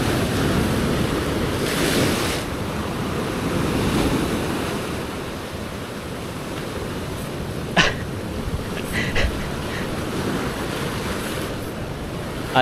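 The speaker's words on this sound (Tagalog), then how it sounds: "Alon." Ocean waves surge and wash in repeatedly with gusty wind noise buffeting the microphone, and a few sharp knocks or barks later on.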